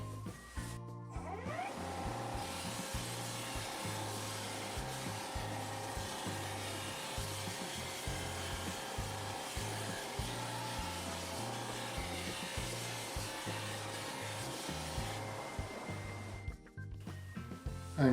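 A wood lathe spinning at about 2000 RPM as a spindle gouge shear-cuts the turning, giving a steady close hiss over a rhythmic low thumping that runs for around sixteen seconds before cutting off.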